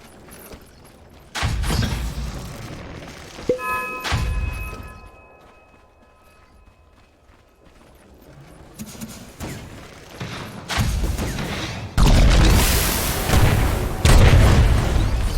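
Explosions in a Dota 2 match while Radiant's top tower is under attack: several heavy booming blasts and thuds in bursts, separated by a quieter stretch with a chiming tone, the last ones dense and loud.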